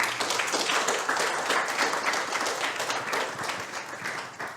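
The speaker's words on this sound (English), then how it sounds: "a round of applause to all" Audience applause at a talk on myth and history: dense, continuous clapping from a crowd, fairly close and loud, sustained throughout with only slight easing toward the end.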